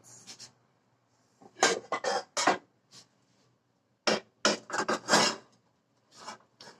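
A frying pan handled before oil is heated, giving close, scraping metal rubs and clatter in uneven bursts broken by brief pauses, with no voices.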